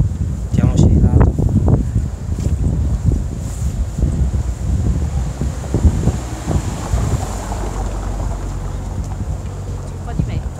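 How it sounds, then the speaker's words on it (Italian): Wind buffets a microphone outdoors on the seafront at Castel dell'Ovo, a steady low rumble that persists throughout while people talk over it. "C'è un po' di vento."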